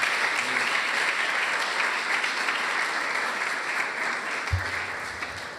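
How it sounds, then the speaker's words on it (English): An audience gives steady, loud, full applause for a speaker at a live Krishna consciousness class in San Francisco, dense clapping sustained throughout and tapering slightly at the end. "Let us give another big round of applause for Prabhuji"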